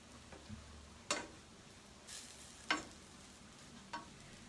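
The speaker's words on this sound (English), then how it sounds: "Just want to stir that around." Food with cilantro being stirred in a pan on the stove, a few distinct scraping strokes of the utensil spaced about a second apart over a faint steady sizzle, close and fairly quiet with no talking.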